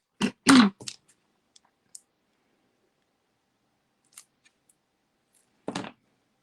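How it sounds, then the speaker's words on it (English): Cardstock being trimmed, its end piece cut off for a handmade gift card holder: a couple of quick, crisp cutting snips close up near the start, then a lone short snip near the end, with quiet between. "I will trim off the end piece here"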